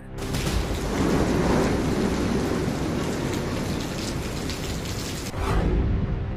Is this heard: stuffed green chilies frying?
no